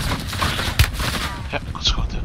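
Gunfire in Call of Duty Warzone 2.0, with bursts and sharp shots over a busy battlefield background, and someone talking over the action.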